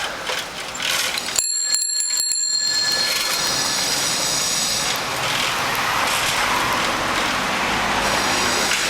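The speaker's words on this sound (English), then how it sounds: "I gotta switch hands again so I can get access to my bell." A bicycle bell rings in a quick run of bright, metallic dings for about a second, over steady traffic and street noise during a morning bike commute through Beijing.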